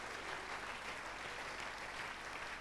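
A church congregation clapping in praise during a worship service, a steady, fairly faint wash of many hands with no speech on top.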